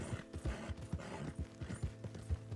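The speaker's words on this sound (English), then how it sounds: "Especially when you're on a moving horse." Horse hooves gallop in Red Dead Redemption, a quick steady clip-clop rhythm of thudding beats at moderate level over a low game ambience.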